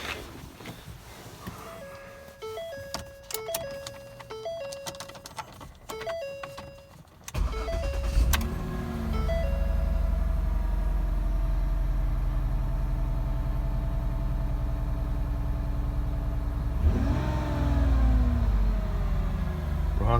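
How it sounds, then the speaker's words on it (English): A Ford Escape V6 does a cold start: a rhythmic chime and clicks, then the engine catches at once and settles into a loud, steady idle that holds to the end with a brief rise near the end. "Alright, let's do a cold start here."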